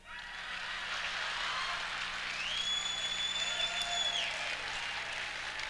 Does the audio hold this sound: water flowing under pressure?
no